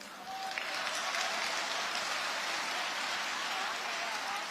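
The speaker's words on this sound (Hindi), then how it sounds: "थोड़ी तालियां कम है पीछे वालों" Steady, dense audience applause at a Hindi comedy poetry performance, loud and continuous throughout with no talk over it.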